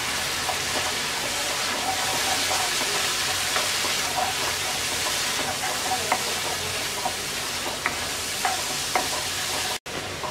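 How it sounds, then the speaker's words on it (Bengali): Chepa shutki, a fermented dried fish, stir-fried in a pan, giving a steady close sizzle with frequent scraping and stirring clicks, and a brief dropout near the end. "চেপা শুটকিটাকে আমরা 2-3 মিনিট কষিয়ে নেব।"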